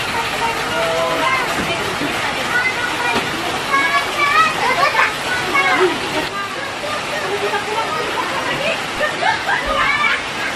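Mahua Waterfall in Tambunan roars as a constant broadband rush of falling water during rainy-season rain, with people talking and children's voices mixed in over the steady noise.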